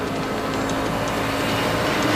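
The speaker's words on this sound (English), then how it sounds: "Ah, god damn it! The train up ahead!" A train approaches in the LA Noire video game, a steady, loud rumble with a broad mechanical roar that builds slightly and carries no talk.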